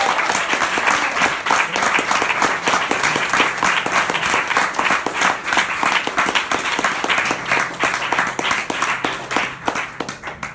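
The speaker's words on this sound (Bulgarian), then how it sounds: "Моля ви, силни аплодисменти за това." An audience at a June 2017 training event applauds loudly and steadily for about ten seconds, individual claps audible within the dense, sustained clapping.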